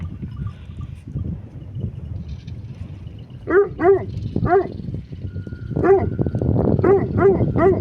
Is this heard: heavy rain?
no